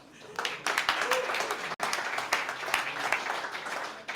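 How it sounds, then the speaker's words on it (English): A live audience at a startup pitch event applauds, a broad, steady stream of clapping from many people that rises quickly, holds at moderate loudness with a brief dip, and carries faint voices mixed in. "So applause."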